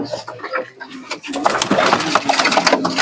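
Pakistani pigeons at a pigeon sale give soft cooing calls amid a busy, noisy market background with people talking nearby.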